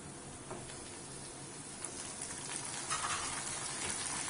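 Tomatoes frying with garlic and onion for a Chettinad garlic kuzhambu, a faint, steady sizzle that grows slightly louder toward the end, with a few light ticks from stirring.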